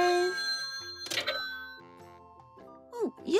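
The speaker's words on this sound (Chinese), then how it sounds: "哦，又来电话了。" A Peppa Pig toy telephone plays bright electronic tones and short melodic chirps, with a jingling burst near the start, while a cartoonish voice talks over it.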